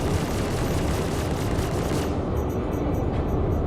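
Spaceship guns in Star Citizen fire in a dense, unbroken barrage, loud and close, before the noise thins out near the end.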